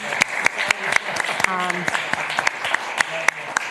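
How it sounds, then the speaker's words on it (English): Scattered hand claps in a steady, loose rhythm honor a retiring employee at a Ramsey County Board meeting, heard under a person talking throughout. "I know there's a round of applause"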